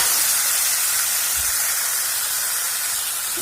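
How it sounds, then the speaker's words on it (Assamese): Bamboo shoots with turmeric frying in hot oil in a pan, giving a steady, close, even hiss that holds without pause throughout, with no voices. "বাহৰ গাছখিনি ইয়াত দি ভাজি ল'ম।"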